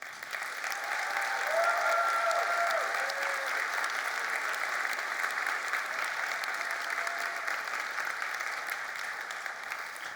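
A large conference keynote audience at Codegarden 2024 gives sustained, dense applause to the CMS, front end, back office and DXP teams, a steady wash of many hands clapping for ten seconds with faint cheering early on.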